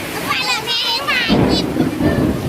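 Rain and thunder in a rural Lao setting, a steady rush of falling rain with a low rumble rising partway through, while voices that sound like children's carry over the top.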